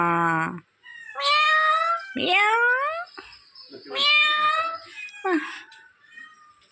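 A cat meows several times in drawn-out, rising and falling cries, loud and close, with short gaps between calls and a brief voice at the start.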